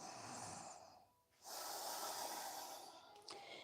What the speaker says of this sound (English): lift your chest and inhale and exhale through your nose